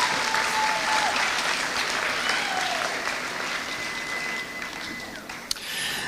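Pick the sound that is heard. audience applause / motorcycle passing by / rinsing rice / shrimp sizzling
audience applause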